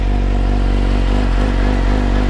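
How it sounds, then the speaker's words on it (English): A Yamaha R6 sport motorcycle's exhaust, after an ECU flash, rumbles loudly and steadily at idle, a deep continuous throb with a slight uneven pulse, close to the microphone. "I don't know how well the GoPro mic is doing the exhaust sound justice"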